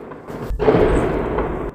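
Explosions roughly 200 to 300 metres away, behind a neighbouring building in a city under attack: a short thump, then a heavy rumbling roar lasting about a second, loud and fairly close.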